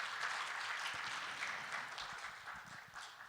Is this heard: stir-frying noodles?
no